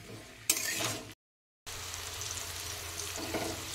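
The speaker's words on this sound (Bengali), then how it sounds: "হাই ফ্লেমে কিন্তু রেখে এটাকে আমি ভাজা ভাজা করে নেব" Spices fried with turmeric powder over a high flame, a steady close sizzle with scraping and stirring clatter, briefly cut to silence before the frying noise resumes.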